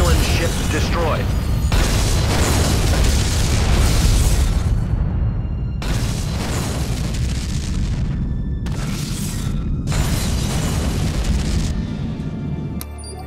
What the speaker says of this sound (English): Objective achieved. Romulan ship destroyed.